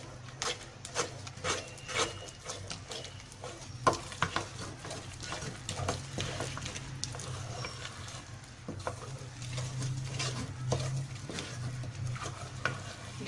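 A khandli mixture thickening in a pot on low heat, stirred continuously with a spoon scraping and slapping through the dense batter, close and steady with soft bubbling and no talk.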